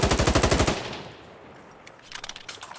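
A rapid automatic burst rattles out fast and loud in Insurgency: Sandstorm, emptying a magazine, then stops; after a lull a second, quieter run of quick shots follows.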